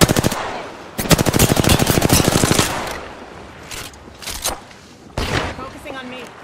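An Alternator submachine gun loaded with disruptor rounds fires in a video game: a rapid, close automatic burst, then shorter separate bursts and single shots, with game voice lines and a player talking in between.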